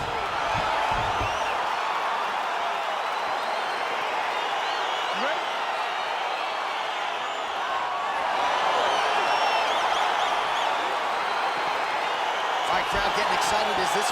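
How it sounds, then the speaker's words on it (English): A virtual arena crowd in UFC 4 roars and cheers steadily as a fight between Israel Adesanya and Robert Whittaker gets underway, a dense, sustained wash of noise with a few sharp thuds near the end. "Crowd getting excited as this fight gets underway"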